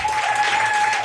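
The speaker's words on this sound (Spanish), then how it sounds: "os pido un aplauso para ellos dos." Studio audience applause for two guests on a Spanish talk show about unsolved mysteries, a dense, steady wash of many hands clapping close and loud throughout, with no voices over it.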